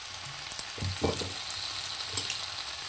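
Pasta with tomato sauce, chili sauce and soy sauce is stirred in a hot pan, giving a soft steady sizzle with a few clattering scrapes of a spoon, close by.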